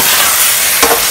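A tomato mixture is stirred in a pan, giving a brief, close sizzling scrape with a slightly louder stroke near the end and no talking.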